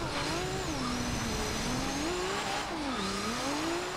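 A Nissan 240SX SE drift build slides uphill in Forza Horizon 2, its engine revving up and down in wavering pitch over a constant loud tire squeal throughout.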